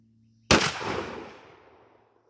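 A single 12-gauge shotgun blast from a Remington 870 firing a Federal Mag-Shok 3-inch turkey load, sudden and loud after near silence, with a long reverberant tail fading out.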